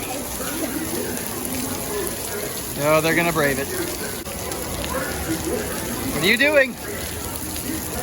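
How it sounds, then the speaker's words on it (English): Heavy Florida rain pours in a constant hiss, with a couple of people briefly talking over the downpour. "It's a lot of rain."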